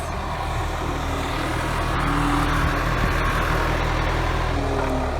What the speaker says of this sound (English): So there's just some construction going on here